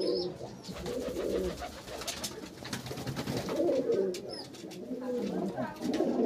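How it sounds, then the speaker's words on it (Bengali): Domestic pigeons coo softly at Dasu's house in repeated low, throaty calls, with someone talking over them nearby. "দেখতে পাচ্ছেন উস্তাদ দাসু আঙ্কেলের বাড়ির যে পায়রা আপনাদেরকে শখ করাচ্ছি"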